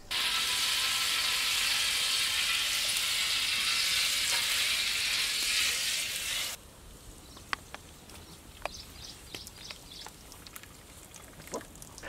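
Onions sizzle loudly in hot oil and pure ghee for a chicken biryani, a continuous close frying hiss that cuts off abruptly, followed by scattered light clinks and scrapes of a utensil.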